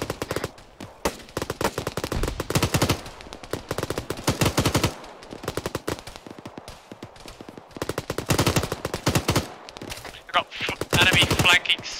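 Bursts of gunfire in the military shooter game Arma 3, with a grenade launcher pounding a position; rapid repeated reports in several loud volleys across the span, with short gaps between them.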